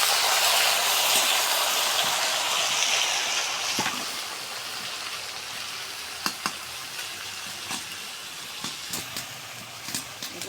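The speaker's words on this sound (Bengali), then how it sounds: "পেঁয়াজ মরিচটা লাল লাল করে ভাজা হয়ে গেছে, করলাগুলো আমি দিয়ে দিলাম" Bitter gourd pieces added to a pan of onion and chili already fried red, sizzling and hissing steadily, with a few sharp clinks of a spatula toward the end; no talking.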